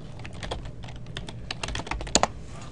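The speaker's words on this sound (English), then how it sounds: "So if you go to Google and we just type iDeform," Typing on a computer keyboard during a lecture, a quick run of close, crisp keystrokes with a couple of louder taps near the end, heard alone without talk.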